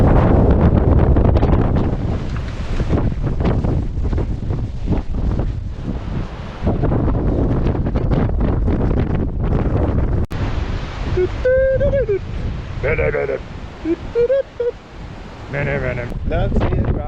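Strong wind roars and buffets the microphone on a coastal cliff top along the Dorset Jurassic Coast, loud and gusty throughout, easing briefly midway, and a voice hums or speaks near the end.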